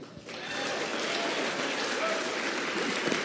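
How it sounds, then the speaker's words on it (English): Spectators at a US Open 9-Ball Championship pool match breaking into applause after the first game, a dense burst of clapping that swells in quickly and holds steady for a few seconds. "Pretty big applause here after game number 1 for SVB."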